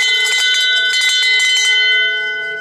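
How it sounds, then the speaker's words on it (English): Handheld bell rung repeatedly and rapidly at a crowded Christmas lights display on Naples Island, Long Beach, loud and close with bright ringing strokes for about two seconds, then a sustained fading ring. "Well, what do you know? We got a bell here."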